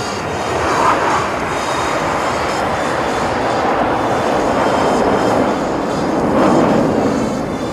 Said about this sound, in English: Moving in from your left, in the peace formation, the Surikannan Aerobatic Team.